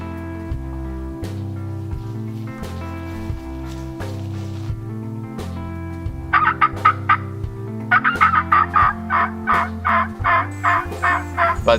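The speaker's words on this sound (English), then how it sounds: "heard some birds gobbling kind of far off" Wild turkeys gobble near a river, the rattling calls coming faintly at first and then louder in quick bursts over a low steady hum.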